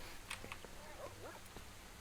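Mutant dogs in the S.T.A.L.K.E.R. video game (Shadow of Chernobyl, OGSE mod) give short yelps and whines over a low ambient drone, with a few faint scattered sharp clicks, fairly quiet and a little way off.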